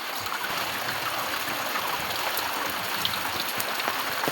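Steady rain falls in a dense, even hiss with scattered patter of drops on surfaces, continuous and fairly loud for a few seconds, with no voices.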